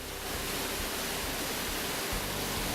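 A waterfall heard from a park in the middle of nowhere, a broad steady rushing roar that fills the whole clip evenly and is loud, with no voices.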